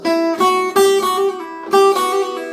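Clean guitar notes are played in short phrases, each picked note flowing into softer hammer-ons and pull-offs, repeated twice with a pause between.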